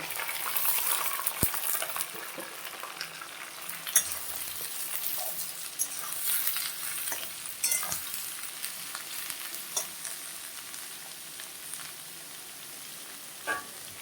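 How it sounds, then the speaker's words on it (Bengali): Chopped bottle gourd hissing and crackling in a hot pan with lightly fried flour and hilsa fish head, a spatula scraping and stirring through steady close sizzling with occasional clinks. "এখন লাউগুলোই দিয়ে দেব"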